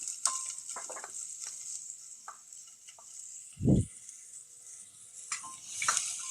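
Small cucumber pieces stirred in a pan for a lentil curry, with faint sizzling and a few light spoon scrapes and taps against the pan, one louder low thump midway.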